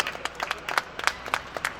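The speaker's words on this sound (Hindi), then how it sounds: "तालियां बजाओ, ऐसा नहीं।" Scattered claps from a small audience at a Hindi poetry gathering (kavi sammelan), sparse and uneven rather than a full ovation, moderately close.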